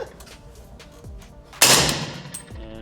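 A single sharp report from an AK-pattern rifle chambered in .300 Blackout and fitted with a Krink-style short barrel, fired at an outdoor range. It is fairly quiet and snappy, with a short decaying tail after a low background.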